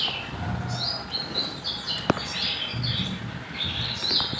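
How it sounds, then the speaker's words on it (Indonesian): A wild sogok ontong bird calls near a caged bird, with repeated high chirps and short tweets scattered across a steady outdoor background, fairly close and moderately loud. "Ini sedikit video saat burung sogok ontong liarannya ini mau mendekati burung saya."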